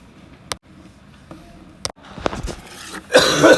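A few short, sharp coughs break through, followed by a rising burst of harsh, noisy throat sounds close to the mic.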